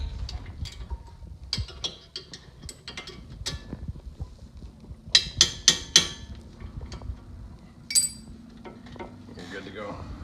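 A new brake pad gets a few light hammer taps to seat it in its holder: a tight cluster of three sharp knocks, then one more a moment later, among quieter handling clatter and a faint voice.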